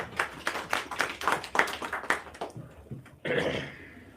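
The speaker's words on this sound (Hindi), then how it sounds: "ताली हो जाए जोरशोर से।" An audience at a pension meeting claps steadily for a few seconds, the applause thinning briefly before a fresh burst of clapping swells up near the end.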